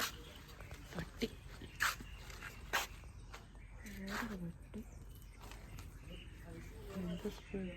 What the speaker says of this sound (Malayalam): പട്ടി